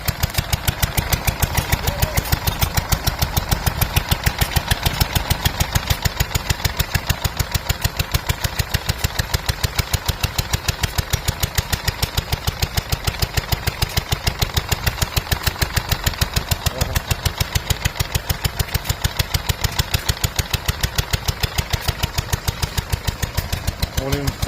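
A 1930 Tata Universal two-stroke 5 hp stationary engine, petrol-started, runs steadily at an outdoor rally with a fast, even chuffing beat that stays loud and close throughout.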